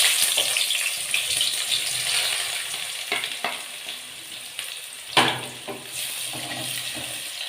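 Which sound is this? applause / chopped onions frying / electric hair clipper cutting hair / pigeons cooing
chopped onions frying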